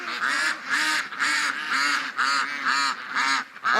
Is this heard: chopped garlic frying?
no